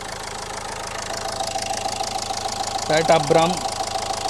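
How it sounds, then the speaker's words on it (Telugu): A Renault Lodgy diesel with a manual gearbox idles with a steady, low knocking rumble, while someone speaks briefly over it near the end. "బండి వెహికల్ రన్నింగ్లోనే ఉందండి."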